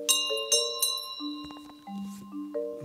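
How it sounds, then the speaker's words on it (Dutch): A bell rings in a series of bright, ringing strikes with sustained tones, each struck note decaying into the next, close and clear with no talk over it. "Een mooi belletje."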